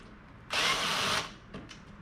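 A power drill drives a screw into a wooden bookshelf in one steady whirring burst under a second long, followed by a brief faint clack of handling.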